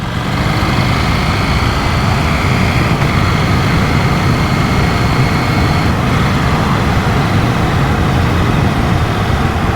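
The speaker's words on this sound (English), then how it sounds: "2000 revs, 4th gear, just wind it on." A KTM 790 Duke motorcycle engine pulling from 2000 rpm in fourth gear, a loud, steady low rumble mixed with wind rush that holds constant for about ten seconds.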